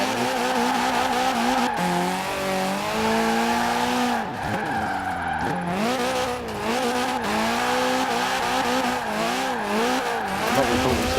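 A Ford Capri in Forza Horizon 4 drifts with a loud, continuous engine roar whose pitch rises and falls through revs, joined by sustained tire squeal, with no talking.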